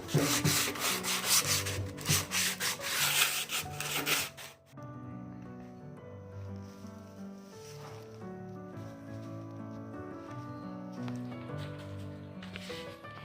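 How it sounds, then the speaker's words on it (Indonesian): Sandpaper scrubs back and forth over the painted surface of a motorcycle fuel tank in quick, rasping strokes for about four seconds, then gives way to background music. "Ini udah di sanding amplas full ya."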